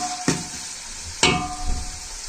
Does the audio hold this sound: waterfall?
no